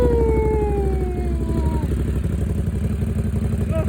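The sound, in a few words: motorcycle exhaust revving after engine start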